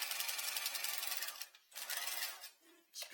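A sewing machine stitches a closed-ended dart in fast, buzzing runs broken by short pauses, loud and close with no talking.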